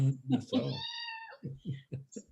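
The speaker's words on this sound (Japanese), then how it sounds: "猫の声。" A kitten gives a long, drawn-out meow close by, followed by a person speaking in short bursts.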